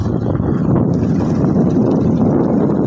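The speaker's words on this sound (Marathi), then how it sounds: "वारा तर मस्त सुटलाय, पर वारा सुटलाय." Strong wind blows steadily across an open village area on a rainy day, a loud, continuous low roar buffeting the microphone with no break and no talk.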